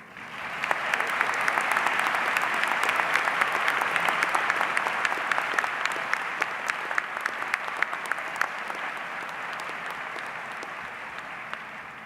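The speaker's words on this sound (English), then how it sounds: "if you're not too tired of clapping" Sustained audience clapping at a medical school commencement ceremony, a dense, loud wash of applause with sharp individual claps standing out, holding steady for many seconds and slowly thinning toward the end.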